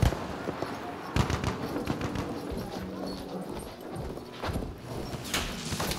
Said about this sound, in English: Alright, giddy up, horsey.